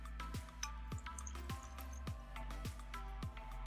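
A tea bag is dunked repeatedly in a cup of electrolyte water, giving six evenly spaced soft plopping drips, faint and close.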